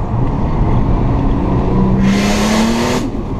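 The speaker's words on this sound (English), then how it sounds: "Whoa, wheel spin." A turbocharged 1998 Ford EL Falcon accelerates hard, its engine rising loudly in pitch, and a bright hiss of wheel spin flares up for about a second before easing off, all close and loud.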